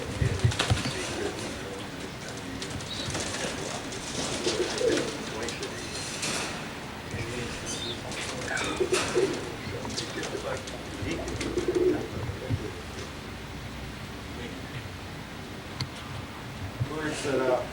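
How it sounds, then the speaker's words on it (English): Pigeons give several soft, low coos scattered across the recording, with talking and some mechanical rattling in the background. "I got a whole bunch of birds, young birds."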